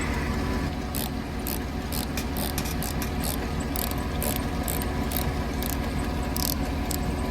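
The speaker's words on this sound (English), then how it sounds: "if you have a stubby ratchet wrench, bolt that thing right up" A stubby ratchet wrench tightens a bolt on the side bumper holder of a 2007 Yukon Denali, its pawl clicking in a quick, steady train up close that runs unbroken for several seconds with no talk.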